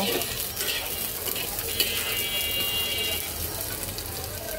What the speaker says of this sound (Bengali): তো চলো পেঁয়াজটাকে এবার সুন্দর করে হালকা ভেজে নেব।